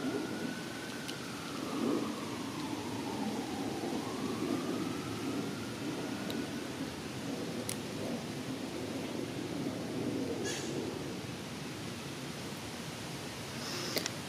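Light rain falls steadily outdoors, a soft even hiss that stays constant throughout with no voices.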